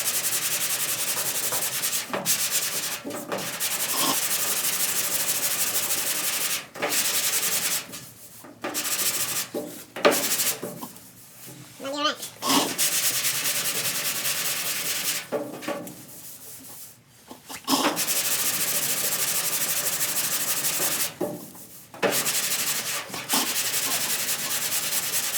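Long strokes of a block sanding primer on a 1968 Camaro body, a close, steady abrasive rasp broken by short pauses between passes.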